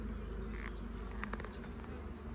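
Honeybees hum steadily over an opened beehive while a beekeeper checks the combs for the queen, a dense close-up buzz with small clicks and rustles.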